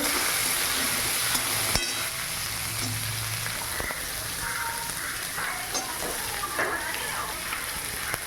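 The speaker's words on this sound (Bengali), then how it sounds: "গাজরটা দিয়ে দেবো, বিনসটাও দিয়ে দেবো। একটু নাড়াচাড়া করে নেব।" Cauliflower, carrots and beans stirred in a frying pan for a semolina breakfast dish: a dense continuous sizzle with a few soft stirring knocks, close and steady, no talk.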